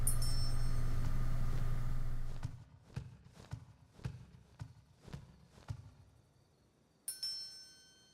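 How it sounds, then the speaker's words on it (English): A series of sharp, evenly spaced metallic bell-like strikes rings out in a sparse, quiet passage in the video game Kuon, following a steady droning sound that cuts off abruptly. "And that bell, probably my favorite cue in this entire game."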